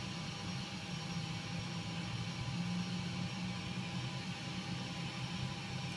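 A jet engine in a flight simulator spools up during engine start, a steady whining hum that builds gently and stays fairly quiet, with no talk over it.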